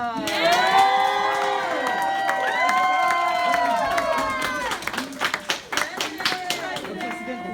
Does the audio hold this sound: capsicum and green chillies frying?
no